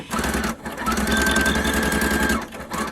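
A sewing machine stitches a straight seam across fabric strips, running in a steady close whir with brief pauses at the start and near the end.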